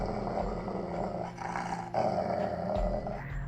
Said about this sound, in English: A large dog barks loudly and leaps on me.